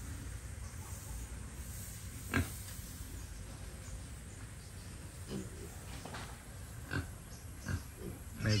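Pigs in a piggery on a Dubai farm grunt and oink in short scattered calls over a steady background hum, some nearer and louder than others.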